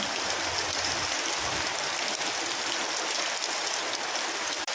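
Heavy rain pours down in a steady, dense hiss that fills the whole clip without letup, loud and close, with no voices.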